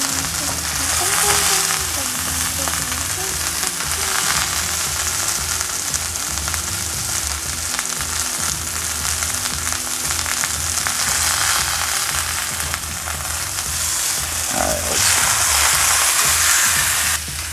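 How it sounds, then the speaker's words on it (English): Pot roast beef browning in a hot pan, a loud, steady sizzle and spatter running continuously at close range, with occasional shifting scrapes as the meat is moved. "I'll brown it some more on that side too. It was just starting to stick on the pan."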